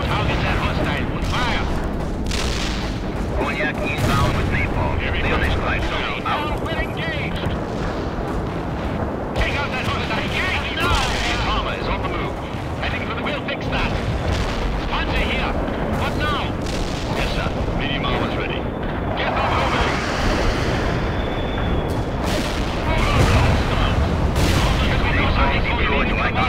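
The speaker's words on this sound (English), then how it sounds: "We're taking heavy fire here." Artillery barrages and napalm fire from the real-time strategy game World in Conflict pound continuously in a dense, roaring battle din of booms and gunfire, with radio-style voices talking over it.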